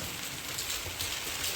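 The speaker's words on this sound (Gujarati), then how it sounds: "વરસાદ ચાલુ થઈ ગયો" Steady rain pours down outdoors in a village during the Navratri season, a dense, even hiss of drops on surfaces filling the whole short stretch without pause.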